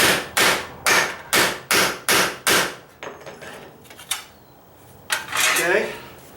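Stiff putty knife hammered into a surface under a kitchen sink to start a hole, about eight rapid, loud, evenly spaced metallic blows, then a few lighter taps and a scraping sound.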